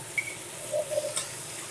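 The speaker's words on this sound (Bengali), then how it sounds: "আলুটা ভাজবো লবণ পরিমাণ মতো হলুদ গুঁড়ো দিয়ে দিয়ে আলুটা" Potatoes frying with salt and turmeric in a pan give a soft, close sizzle with a few light stirring scrapes over a short moment.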